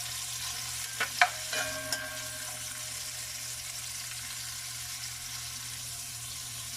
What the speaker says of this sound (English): I'm going to saute it down like at least 2 minutes